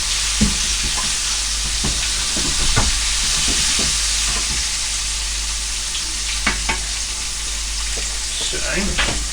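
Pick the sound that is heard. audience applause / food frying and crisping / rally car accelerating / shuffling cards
food frying and crisping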